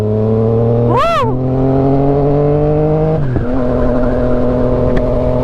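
A Honda Rebel 500 motorcycle engine hums steadily while riding, with a sharp rev spike early and a shift in tone later, loud and close; no talking.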